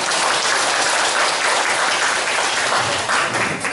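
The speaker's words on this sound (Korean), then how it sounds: "박수로 맞이해주시기 바랍니다" Audience applause at an environmental education training session, dense continuous clapping from a large crowd, loud and sustained throughout with no talking.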